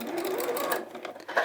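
A sewing machine stitches fabric in a short, close burst of fast, even needle chatter that runs continuously without pause.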